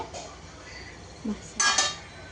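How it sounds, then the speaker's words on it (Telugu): Lid set on a cooking pot of egg and raw prawn curry, a soft clunk followed by a brief metallic clink and rattle, close up and fairly quiet. "మూత పెట్టేసుకుందాం గైస్."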